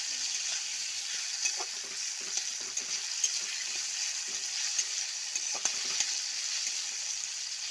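Frying in a pan before jackfruit goes in, a steady broadband sizzle with occasional soft stirring clicks and taps, continuous and fairly close, no voices.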